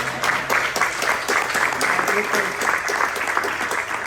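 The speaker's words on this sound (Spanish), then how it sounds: "lo primero que quiero hacer es invitaros a darles un fuerte aplauso" An audience claps firmly at an urban mobility panel session, a dense, sustained round of applause with faint speech underneath.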